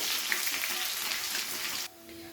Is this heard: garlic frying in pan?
yes